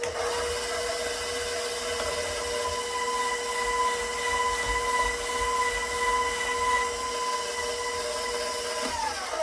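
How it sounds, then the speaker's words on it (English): A KitchenAid stand mixer with the slicer/shredder attachment and coarse shredding cone runs while shredding potatoes, giving a steady, loud motorized whine with a constant hum throughout and no talking. "I can simply pop in this coarse shredder, which is what I would use for potatoes, and we'll get a few shredded ones"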